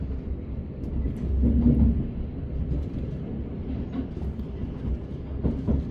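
Low, steady rumble of a Southern passenger train running on rails between London Bridge and Caterham, heard from inside the carriage with faint rhythmic clatter and no voices.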